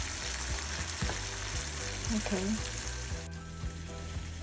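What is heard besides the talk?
candy apple sugar syrup boiling in a pot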